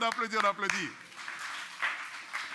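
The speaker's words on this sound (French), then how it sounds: "On applaudit." Audience applause at a Christian preaching gathering: a voice speaks briefly, then steady, moderately loud clapping spreads through the room and continues to the end.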